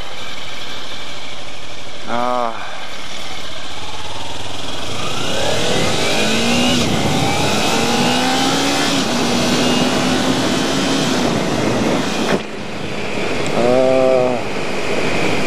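A Kawasaki Ninja 300 motorcycle engine runs with wind rush and steady mid-range drone, with a few brief throttle blips and rising revs in the middle, while harmonic whines and chirps sweep up and down near the start and end.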